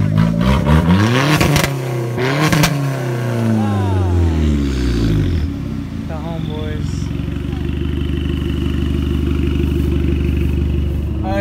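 Loud, raw engine of a WRX with its muffler removed, revving hard and dropping back to a rough, throbbing idle at a street race meet, with people talking over it.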